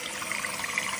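Water rushes into a toilet tank through a newly replaced fill valve just opened, a steady loud hiss of filling that runs unbroken and close by.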